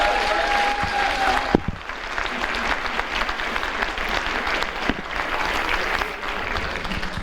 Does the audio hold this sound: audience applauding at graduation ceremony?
yes